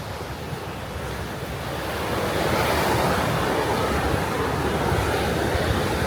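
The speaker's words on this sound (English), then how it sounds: "Oh, that's a big wave." Ocean surf breaking on a beach at Midigama, a broad continuous roar of waves that swells louder partway through, with wind buffeting the microphone.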